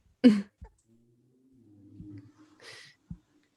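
A woman coughs once sharply, then a few softer coughs and throat sounds follow over a quiet background with a faint low hum.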